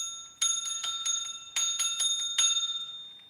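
A small handheld bell is rung in three quick bursts of shaking, each leaving a bright metallic ringing that fades away between bursts, close and clear with no talking.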